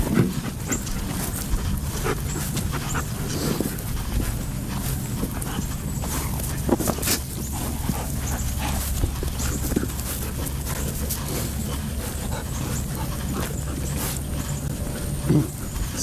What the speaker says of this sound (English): these are some of my dogs, like 7 Malinois, intact, not spayed, not neutered.